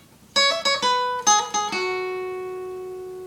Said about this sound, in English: Once you do that, the next part is this little picking part.